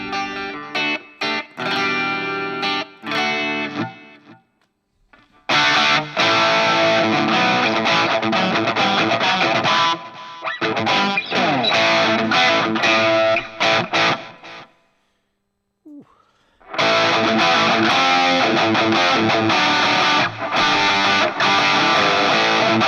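Electric guitar through moderately low gain distortion with delay, dense sustained riffs and chords broken by two short silent pauses, loud and close with no voices.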